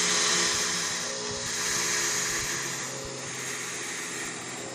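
A fog chiller fitted with a perforated cap with 1/8 inch holes gives a steady, dense hiss and whoosh of rushing air, loud and constant throughout with no talking.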